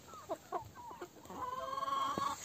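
Several broiler chickens cluck in short, repeated bursts at feeding time on a Siberian village farm, followed by a drawn-out call, fairly faint and without talk.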